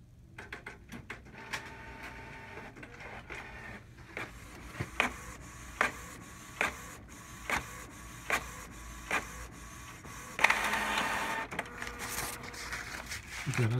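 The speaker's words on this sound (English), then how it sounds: "now we'll print that check pattern" Canon MG wireless inkjet printer running a check pattern print with refillable PG-240 and CL-241 cartridges: a quiet mechanical hum punctuated by regular clicking carriage passes, ending with a louder feeding whir, close by and without talk.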